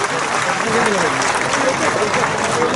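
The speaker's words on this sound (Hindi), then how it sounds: "तो ताली बजाओ कतई सुंदर बनाया है देखा" A crowd claps steadily at a public Bhent Mulakat meeting with the chief minister in Thelka village, Bemetara, in a dense, continuous patter with a voice talking over it.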